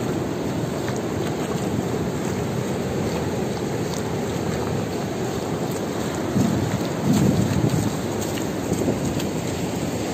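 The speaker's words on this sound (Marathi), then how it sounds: "समुद्राच्या लाटा" Sea waves at Palande and Harnai beach on the Konkan coast make a steady, loud broadband roar with no pauses. A slightly stronger surge swells through the middle.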